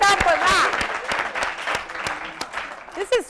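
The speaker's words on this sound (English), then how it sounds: "let's clap for that" A small group breaks into scattered applause, a few sharp claps spaced out while people laugh and talk over them.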